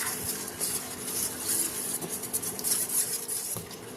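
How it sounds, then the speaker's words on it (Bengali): Arrowroot powder being stirred into a little water in a bowl to make a slurry, a continuous soft scraping and swishing of a spoon close by. "এবার আমি এরাউটটা জল দিয়ে গুলে নেব। অল্প অল্প করে জল দিচ্ছি। এবার আমি গুলে নিচ্ছি।"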